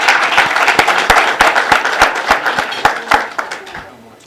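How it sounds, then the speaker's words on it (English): Audience applause at an NPP Seattle chapter official opening ceremony in Seattle, Washington: a dense, steady round of clapping from a crowd indoors, holding at a loud level before thinning out near the end. "let's give them a round of applause again"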